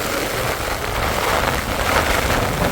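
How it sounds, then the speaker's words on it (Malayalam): Heavy, wind-driven rain pours down during a fishing outing, a loud dense steady roar close around that never lets up. "ഭയങ്കര മഴ"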